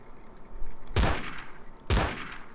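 Two loud, booming gunshots about a second apart from a first-person shooter game in a jail map, each a sharp blast with a short rumbling tail over a steady background hum.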